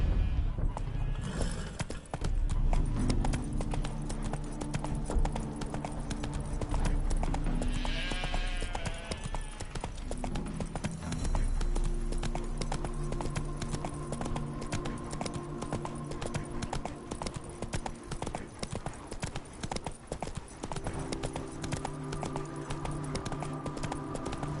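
Geralt's horse Roach from The Witcher 3 video game, hooves clip-clopping in a steady walking rhythm over in-game ambience, with a neigh partway through and a voice speaking at times.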